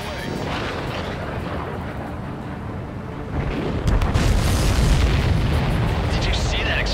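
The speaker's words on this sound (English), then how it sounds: "Did you see that explosion? Looks like that's one of them down." Supply ship explosion in the Ace Combat 7 video game, a loud rumbling boom that swells partway through over constant jet and engine roar, with game effects and radio chatter layered in.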